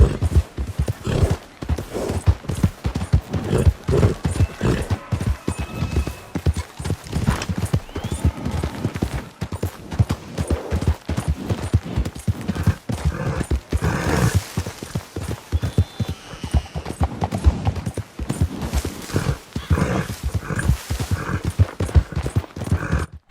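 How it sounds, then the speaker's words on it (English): Heavy Ardennes draft horse hooves clip-clop steadily at a riding pace in the Red Dead game, a dense, continuous rhythm of hoofbeats close by with faint background ambience. "now let's ride to Strawberry on our new Ardennes"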